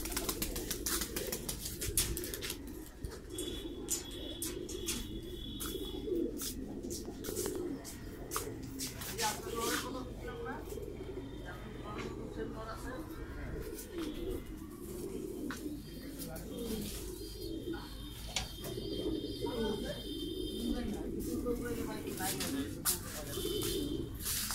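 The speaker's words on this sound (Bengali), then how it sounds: "ওই এনে কবুতর আছে" Pigeons in a rooftop loft coo in soft repeated throbbing calls, joined by chirps and occasional wing flaps, nearby and steady under ongoing talk.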